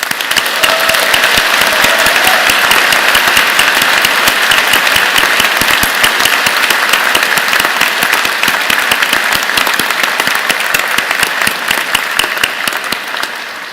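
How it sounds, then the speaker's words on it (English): A large audience at a university engineering graduation convocation gives a vigorous, sustained round of applause, dense and loud from start to finish, with many individual claps blending into a steady roar and no speech on top. "join me and the platform party in thanking them with a vigorous round of applause"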